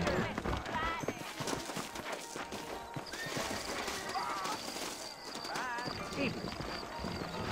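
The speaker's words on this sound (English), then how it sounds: "I got the horses saddled up and ready out front." Hooves clip-clop steadily through a busy scene in the video game Red Dead Redemption, mixed with a horse's whinny and voices talking over the top.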